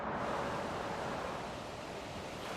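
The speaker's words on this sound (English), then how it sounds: "That current is very strong" Fast, strong floodwater current during extreme flooding at creeks and low water crossings, heard as a continuous broadband rush with a wind-like roar and no voices.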